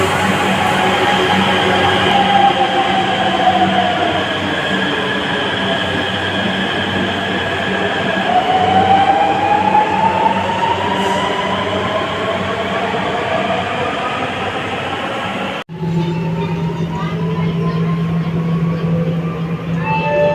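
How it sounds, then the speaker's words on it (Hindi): A rapid RRTS commuter train rolls through and stands at the station, a loud, steady rumble with rising and falling wheel squeal that continues throughout. Near the end a door or coupling thump breaks it briefly. "उस तरफ वाली आरआरटीएस है वो आ चुकी है, और जो अपनी भी ट्रेन है वो आ चुकी"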